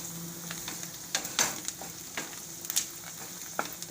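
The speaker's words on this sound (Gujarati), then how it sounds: "એટલે ચણાનો લોટ તેલમાં સરસ પાકી જાય." Chickpea flour cooks in hot oil for a Gujarati curd and chili curry, giving a steady close sizzle with scattered soft crackles and stirring, with no voices.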